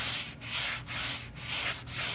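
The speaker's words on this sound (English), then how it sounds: "So once it's cured, we'll hit it with the sanding sponge." Rhythmic scratchy rubbing of a flexible sanding sponge across a cured surface, four back-and-forth strokes, close and even.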